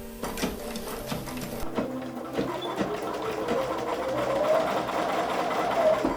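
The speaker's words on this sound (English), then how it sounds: "I'm going to remove that top clip so I have room for my presser foot, and I will put it down and stitch this stitch" Sewing machine stitching quilt blocks together for a sampler mini quilt, a continuous close rattling hum that builds slightly louder toward the end.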